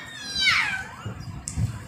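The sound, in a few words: cat meowing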